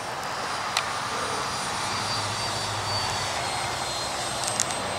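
A Freewing Mirage 2000 RC delta-wing jet on its maiden flight roars overhead with a steady, loud ducted-fan whoosh that holds constant throughout, no voices over it.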